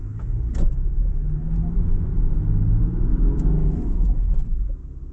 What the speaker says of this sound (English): It's spinning the wheels. Two front wheels are spinning.